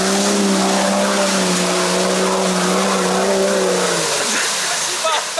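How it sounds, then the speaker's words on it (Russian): Jeep Wrangler Rubicon with a side exhaust revving hard, a loud, steady engine drone that holds its pitch and then drops off near the end, with voices audible under it. "Теперь ты понимаешь, что такое выхлоп в бок бега?"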